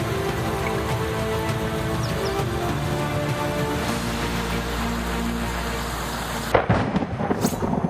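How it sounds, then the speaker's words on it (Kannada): Heavy monsoon rain pours steadily in Maharashtra with rolling thunder, a dense continuous roar that swells with a sharper thunder crack near the end. "ಪಕ್ಕದ ಮಹಾರಾಷ್ಟ್ರದಲ್ಲಿ ಮಳೆ ಅಬ್ಬರಿಸಿ ಬೊಬ್ಬರಿಯುತ್ತಿದೆ"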